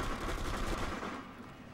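Rapid, dense automatic gunfire from a shooter game set in a raid on Area 51, a loud continuous burst of shots that thins slightly toward the end, with no talking over it.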